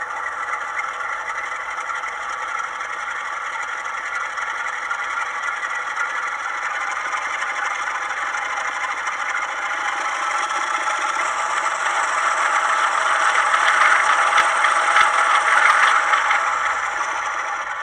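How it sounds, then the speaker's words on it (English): A Bachmann Class 45 OO-gauge model diesel locomotive with ZIMO sound roars at full power, a loud steady rasping drone that swells slightly louder toward the end. "which gives you a full power sound from the locomotive"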